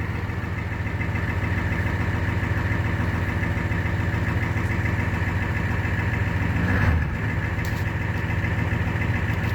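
A 1994 Ford F250 with a 7.3 liter diesel, Banks power pack turbo and Banks stainless exhaust idles after a 30-degree cold start, a steady, loud clattering rumble with no break.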